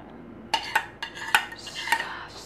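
Metal utensil scraping the bottom of a pan of sticky Thai peanut noodles, a handful of short, close scrapes and clinks in an uneven rhythm with no talk.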